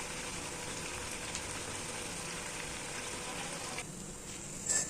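Banana flower vadai frying in oil on a slow fire, a steady even sizzle held at low volume throughout with a few faint pops near the end and no voices.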